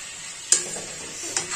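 Tahari ingredients frying and being stirred in a pan for a Bihari-style rice dish: a soft steady sizzle broken by two sharp spatula scrapes against the pan, close and brief.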